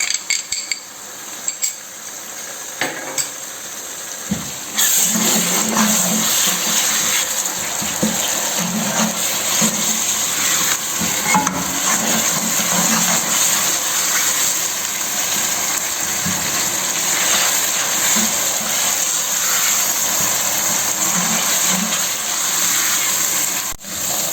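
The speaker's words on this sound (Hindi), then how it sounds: "अदरक लहसुन फ्राई हो गए" Quiet clinks and scraping give way to a sudden loud sizzle as ginger garlic paste fries, hissing steadily, with occasional utensil taps against the pan.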